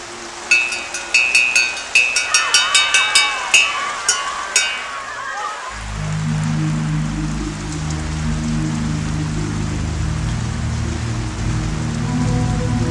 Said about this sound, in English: It was heavily raining.